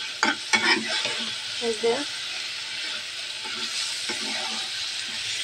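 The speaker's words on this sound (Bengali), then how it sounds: "তো আমি এগুলো একটু কষায় নেব" Spiced chicken liver (kolija bhuna) with chili powder is stir-fried in a pan, giving a steady close sizzle with scraping stirs. A voice speaks briefly over it near the start.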